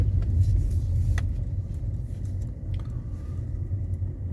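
A car drives slowly into a flooded car park, its engine a low steady rumble close by with faint splashing, no talk.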